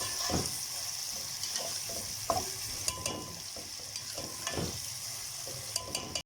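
Onions, tomatoes and minced meat frying in a pan for keema baingan, with a low steady sizzle and a few scattered scrapes and knocks of a spoon stirring, close and fairly quiet, with no talking.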